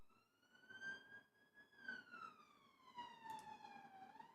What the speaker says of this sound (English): There's an ambulance going past.